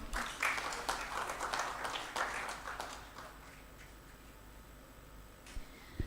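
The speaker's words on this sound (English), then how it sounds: "Huge round of applause, everyone." A conference audience gives a round of applause at a neurosurgery education course. The clapping is faint and spread out, strongest at first, then thins to scattered claps with some low murmuring.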